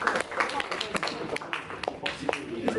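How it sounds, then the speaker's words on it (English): A room audience at a student Toastmasters speech gives a short burst of applause, dense overlapping claps continuing steadily for a few seconds at moderate, fairly close level, with some voices mixed in. "I think you all deserve a round of applause"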